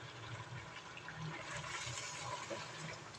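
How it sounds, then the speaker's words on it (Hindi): A glass of water is poured into a pan of chicken karahi, giving a steady gushing, splashing rush of liquid that lasts throughout at moderate level, with no talking. "तो 1 गिलास मैंने पानी डाल दिया है।"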